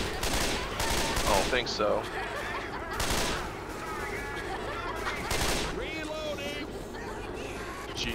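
Rapid gunfire crackles in Left 4 Dead 2, bursts of automatic shots spread across the stretch with a brief lull, while players talk over it.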